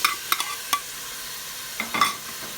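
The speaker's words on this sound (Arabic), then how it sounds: "حطه فوق الثوم والزنجبيل وبقلبهم لحد ما تدبل معي البصلة" Diced onion stir-frying with garlic and ginger in a pan for Chinese-style chicken, a soft sizzle under a few quick clinks and scrapes of a utensil, clustered at the start and again near the end.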